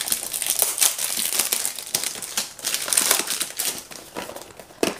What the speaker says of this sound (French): Désolée pour le bruit des emballages.